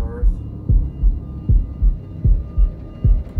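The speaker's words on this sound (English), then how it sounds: "I hear heart beating." Deep heartbeat pulses from a Shadow of the Tomb Raider cutscene, a steady series of paired low thuds about every three-quarters of a second over a faint background hum.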